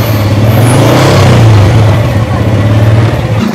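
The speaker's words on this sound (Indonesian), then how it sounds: "Gue kalau mau pergi, gue manasin motor dulu." A motorcycle engine warming up before a ride, a steady loud rumble that swells and eases as it is revved, close by with no voices.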